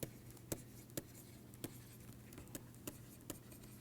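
Chalk or marker taps and scratches on a board as an equation is written during an engineering lecture, faint, close strokes at a steady, irregular rhythm, with no talk.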